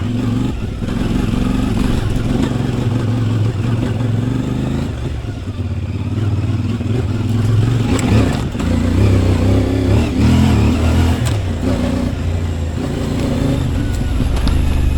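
A CF Moto 450MT motorcycle ridden on an enduro loop on the Sunny Coast, its engine droning loudly and steadily the whole way, with revs rising and falling over rough clattering terrain.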